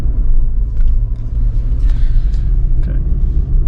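A 2021 Toyota 4Runner drives around the block, its engine giving a steady, loud low rumble from inside the cabin with a few faint higher rattles above it.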